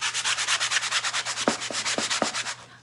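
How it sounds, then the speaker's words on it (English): Rhythmic back-and-forth sanding of a palette knife painting of a shamrock, steady scraping strokes about six per second, close and moderately loud, with a few light taps near the end. "Let me see what sanding will do"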